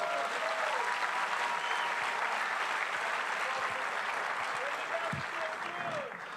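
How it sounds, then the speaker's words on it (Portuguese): A church congregation applauds during a worship service, a steady dense wash of clapping that fills the whole stretch, with faint voices and a few cries mixed into it. "Aplauda o Senhor, aleluia."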